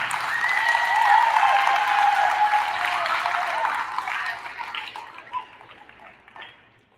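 A school awards assembly crowd claps for the parents, dense sustained applause that swells early and then gradually thins and fades, with a few scattered claps at the end.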